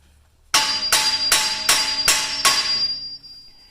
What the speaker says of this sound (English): Then I get a hammer, and I'm gonna be tapping it here.